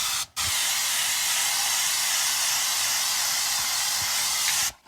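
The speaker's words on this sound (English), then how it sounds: "You just spray them all with a little Pam butter." Pam butter-flavored cooking spray hisses from an aerosol can in a steady, close burst lasting several seconds, with brief breaks at the start and end.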